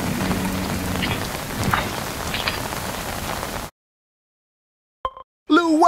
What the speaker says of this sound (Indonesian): air hujan